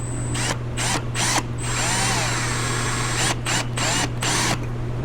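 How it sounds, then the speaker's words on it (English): A spot weld drill whines at high speed through sheet metal of a 1962 Chevy C10 pickup in several bursts, with short pauses between and a steady low hum underneath. "because the spot weld drill, it tends to walk around and not stay in the hole"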